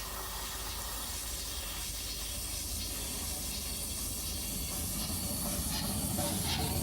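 Steam hisses steadily from Midland Compound locomotive number 2631, built in 1902, a broad, loud, continuous rushing hiss that swells slightly toward the end, with no voices.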